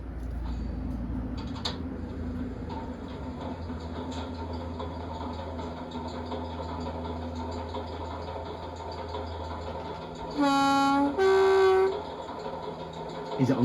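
An Accurascale Class 50 model diesel locomotive starts from cold on a track, with a low steady engine hum and idle followed by two short, loud horn blasts near the end.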